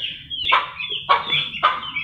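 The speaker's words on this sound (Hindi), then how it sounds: "यार मुर्गी बहुत ज़्यादा शोर कर रही है अपने बच्चों की वजह से।" An Aseel hen clucks loudly over her chicks in a run, giving three sharp, close squawking calls spaced about half a second apart.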